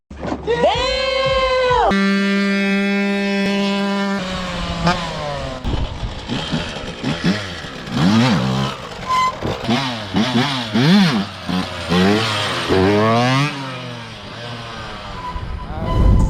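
A Yamaha YZ 125 two-stroke dirt bike revs hard during wheelies, its engine note climbing and falling in repeated loud surges, up close, with no talk over it.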